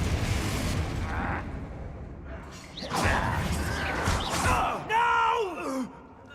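A Confringo spell explodes in Hogwarts Legacy with a loud, rumbling burst, followed by groaning, gasping character voices and further swelling blasts.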